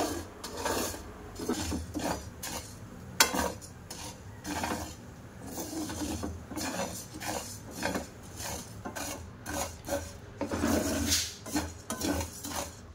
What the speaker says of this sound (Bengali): সাবুদানাটা দিয়ে দেব ফ্রাইং প্যানের মধ্যে